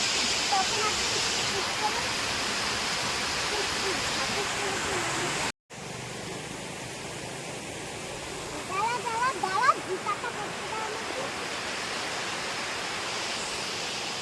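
Water flows steadily through an Indian village, a continuous rushing wash heard close up that breaks off for a moment midway and then resumes, with a few faint tonal sounds near the end.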